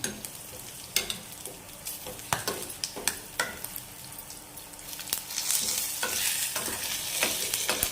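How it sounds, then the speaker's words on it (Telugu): Bodakakarakaya pachadi ingredients fry in a pan with steady sizzling, broken by sharp scraping and stirring strokes, then a fuller, louder sizzle toward the end; no voices. "కొంచెం వేగేటట్టు వేగంగానే తీసేసుకోవాలి. ఫ్రై చేసుకోవాలి కొంచెం."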